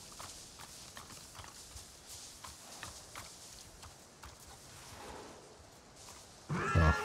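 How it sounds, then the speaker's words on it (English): Hooves clip-clop steadily around a camp in Avatar: Frontiers of Pandora, faint and fairly distant, with a louder burst of movement near the end. "Didn't even realize there was a horse there sleeping."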